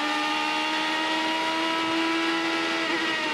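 A 2008 IndyCar heard from onboard at high speed through a 6-speed paddle-shift gearbox, a constant high-pitched engine whine, loud and close, with no talk.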